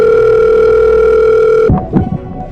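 A steady telephone dial tone hums for about a second and a half, then cuts off abruptly, leaving a few soft clicks and handling noises.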